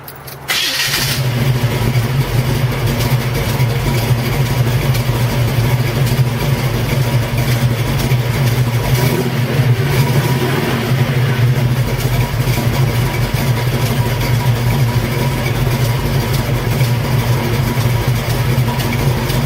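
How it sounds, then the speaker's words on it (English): A warmed-up Chevrolet Camaro engine settles into a steady, loud, low-pitched idle after starting, rumbling continuously up close with no talking. "Alright, so this car's been warmed up and started."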